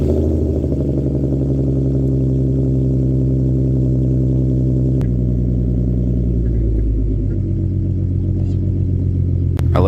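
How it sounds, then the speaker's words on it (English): A 2014 Ford Mustang with a tuned 3.7 V6 idles loudly up close with a steady harmonic drone, then shifts pitch partway through as the engine note changes, alone with no talk. "I'll get a little startup rev video for you here."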